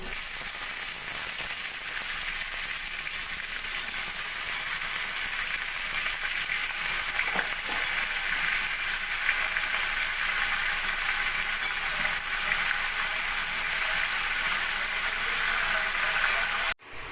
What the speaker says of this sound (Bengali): এবার এই শাপলাগুলো কড়াইয়ের মধ্যে দিয়ে দেবো